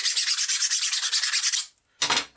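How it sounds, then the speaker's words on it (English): Drilled holes in a lightsaber hilt part are deburred by hand: quick rhythmic scraping strokes, close and bright, run for about a second and a half, pause, then resume briefly. "just a quick deburr, make sure there's nothing that's going to scratch the hilt"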